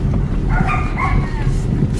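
A dog yips and whines in short, high, tonal bursts at a crowded riverside camping spot at Bakota, Ukraine, partly buried under people talking and steady background noise.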